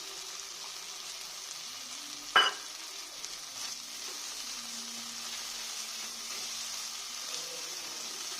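Masala spice paste frying in a pan for katla posto, a low steady sizzle with one sharp clank of a utensil early on and soft stirring afterward.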